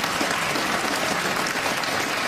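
A studio audience at a Saturday Night Live monologue breaks into sustained applause, dense steady clapping from a large crowd at an even volume throughout.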